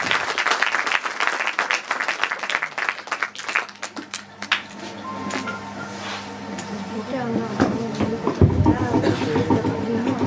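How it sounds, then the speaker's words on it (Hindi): Applause at a business workshop celebration rings out loudly for the first few seconds, then fades as a voice over a PA and low droning sounds take over for the rest. "एक बार फिर से जोरदार तालियों के साथ"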